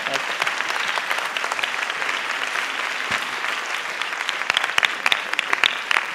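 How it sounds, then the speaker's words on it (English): Audience applause closing a talk at an academic event on higher education, a full, steady patter of many hands clapping that grows a little more uneven toward the end, with faint voices mixed in. "I think you deserve applause again."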